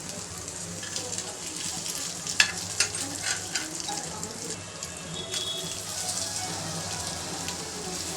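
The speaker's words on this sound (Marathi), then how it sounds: "आता आपले ओले बोंबील फ्राय झालेले आहेत" Fresh bombil (Bombay duck) fish frying in a pan: a soft, continuous crackling sizzle with a few sharper pops and light clinks, heard fairly close and alone.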